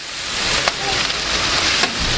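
Diced meat for sac kavurma sizzles steadily on very high heat in a hot cast iron pan, a continuous crackling hiss broken by a couple of sharper pops.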